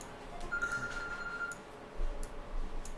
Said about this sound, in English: I'm gonna grab this phone call. Somebody wants to talk to me.